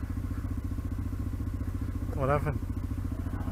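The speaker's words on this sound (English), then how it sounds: "there I go again, throttling on" A motorcycle engine throttles on during an off-road ride, a steady close-up drone with a pulsing rhythm, while a voice speaks briefly over it.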